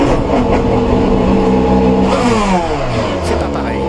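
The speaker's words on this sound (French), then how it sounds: "Démarrage du moteur." A BMW M Hybrid hypercar in the rFactor 2 racing game at Sebring starts up and revs, a loud steady engine tone that climbs and sweeps in pitch, with a voice speaking over it.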